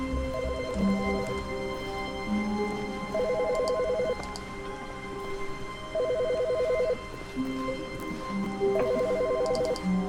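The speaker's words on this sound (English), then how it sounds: "Where's that ringing coming from?" An electronic telephone rings in the video game The Stanley Parable, with short bursts of warbling tones repeating at regular intervals over a low ambient hum and no voices.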